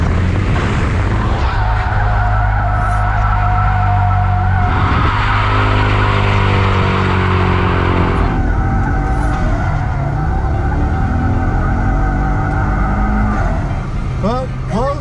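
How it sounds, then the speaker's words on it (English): Car sliding under handbrake during a drifting lesson, with loud continuous tire squeal and skidding over a revving engine for the whole stretch, while people talk throughout. "Let the handbrake work and let the car step out."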